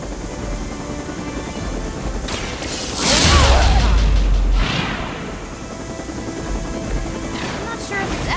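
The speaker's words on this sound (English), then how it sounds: "That helicopter's about to take off" A helicopter in a video game spools up for takeoff, its rotor and engine swelling loud and mechanical for a couple of seconds before easing back beneath ongoing game sounds.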